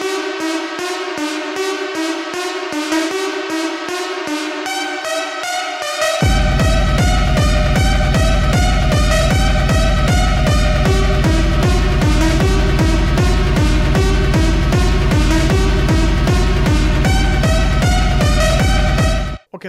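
A repeating industrial techno synth lead pattern plays with a driving rhythm, joined by a heavy pulsing bass after several seconds, then cuts off abruptly.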